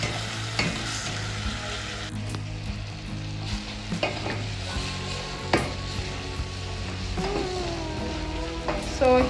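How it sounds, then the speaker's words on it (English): Tomatoes sizzle in a pot while cooking down into a paste for a meat stew, a steady close frying hiss with occasional stirring knocks and spoon scrapes, no voices. "We let the tomatoes cook into a paste."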